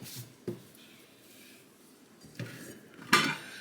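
Dishes and cutlery being washed after cooking give a few sparse clinks and knocks, faint with quiet gaps between them and one sharper clatter near the end.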